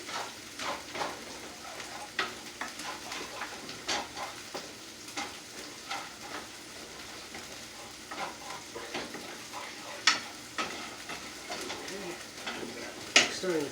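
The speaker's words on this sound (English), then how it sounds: "Give that a stir." Food sizzling in a frying pan while being stirred, with a continuous fry hiss broken by frequent clicks and scrapes of a utensil against the pan, moderately close and fairly quiet.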